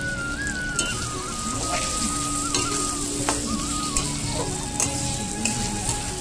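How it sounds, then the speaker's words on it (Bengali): Potatoes sizzle and fry in oil with a spice mixture, a loud continuous crackle with repeated scraping stirs of a utensil against the pan. "আমি ততক্ষণই কষবো যতক্ষণ না খুব সুন্দর একটা গন্ধ না বেরায়"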